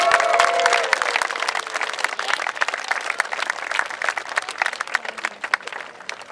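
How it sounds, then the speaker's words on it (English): An audience applauds a woman named Kim Cardozo at a morning gathering: dense, sustained clapping from a roomful of people, loud at first and thinning slightly toward the end, with a few voices faintly audible underneath. "Can we all give Miss Kim Cardozo a round of applause?"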